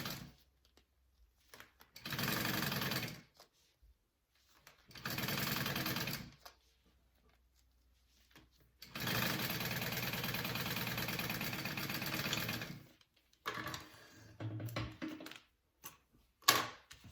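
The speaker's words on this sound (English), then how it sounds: "I'm gonna fold that and sew it, stitch it at a 1/2 inch seam allowance first." A sewing machine stitches a duffle bag seam at a half-inch seam allowance, running in three separate bursts of steady rapid whirring with quiet pauses between them.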